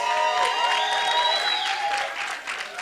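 Audience clapping at a summit event, a dense steady round of applause with tonal voices or cheering threaded through it, easing slightly near the end.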